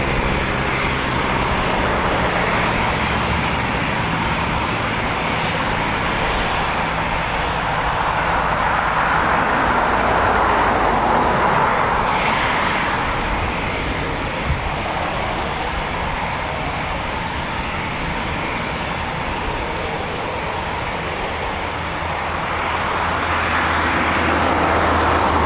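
A Eurofighter Typhoon FGR4 fighter jet takes off at RAF Coningsby, a loud, steady, broadband engine roar that swells and holds for the whole stretch, with no talk.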